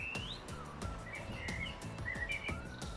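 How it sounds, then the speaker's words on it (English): A blackbird sings outdoors in a vegetable garden, with short melodic whistled phrases repeating every second or so, clear and moderately close. "Can you hear that blackbird, Molly?"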